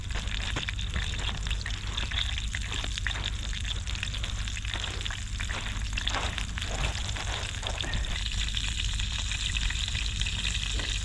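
Continuous crackling sizzle of breaded plaice frying in hot oil in a pan, with a low steady hum underneath.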